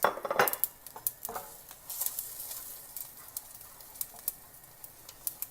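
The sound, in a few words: stir-frying rice mixture with curry leaves and turmeric in pan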